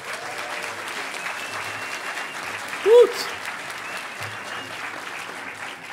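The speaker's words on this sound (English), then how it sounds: "Give them a round of applause." Applause from the audience at the Hackers On Planet Earth closing ceremonies, steady clapping throughout with one short shouted cheer partway through.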